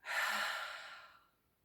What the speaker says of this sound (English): So take a nice deep breath in and exhale.